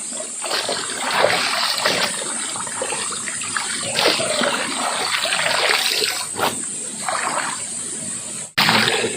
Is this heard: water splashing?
yes